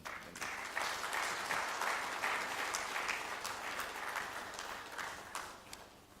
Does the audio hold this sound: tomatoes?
no